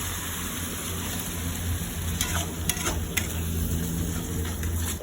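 Chicken being stirred in a sizzling pan of lemon chicken with mushrooms, a steady close frying hiss with scraping stir strokes clustered near the middle, no talk.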